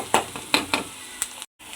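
Onions frying on a medium flame while being stirred, a constant sizzle punctuated by several sharp scraping strokes of a spoon against the pan, close and clear, ending with a brief cut to silence.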